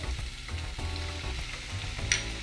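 About 250 grams of finely chopped chicken with pepper sizzles loudly in a hot pan for homemade shawarma, a continuous close frying hiss with a faint stirring clink near the end.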